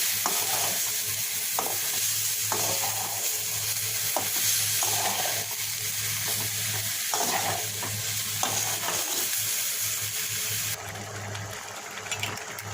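Boiled masoor lentils stirred into fried banana stem in a pan: a constant sizzle with repeated scraping stirs at close range, slightly quieter near the end, no speech.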